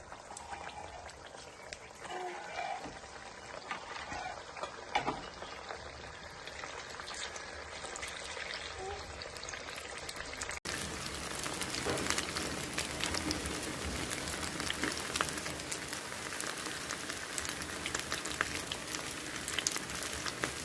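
Chicken pakoda pieces deep-fry in hot oil, a soft continuous bubbling hiss that grows denser and louder about halfway through, close and without talk.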